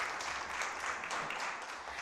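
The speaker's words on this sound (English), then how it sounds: "Can you give them a round of applause, please?" Audience at a guidance counsellor symposium applauding, a steady dense wash of clapping that stays loud and even for about two seconds with no voices.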